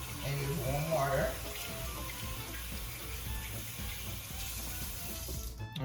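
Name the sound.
tap water running while washing hands with soap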